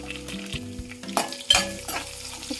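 Dried red chillies, curry leaves and chopped onion frying in hot oil while being stirred, a steady close sizzle with scraping spoon strokes against the pan and a couple of sharper clacks.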